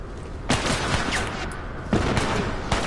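Bursts of gunfire from a fight with bandits in the video game The Last of Us, three loud sharp shots spaced apart over a dense, continuous rumble of game noise.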